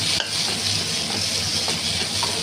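Onions fry with a steady, close sizzle in a pan while a utensil stirs them for a chicken masala with mint, and the scraping and crackle stay continuous and loud.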